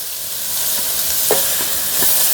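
Chopped cabbage stir-frying in a hot pan for hakka noodles gives a steady, loud sizzle with a few scraping stirs of a utensil, close and uninterrupted, with no talking.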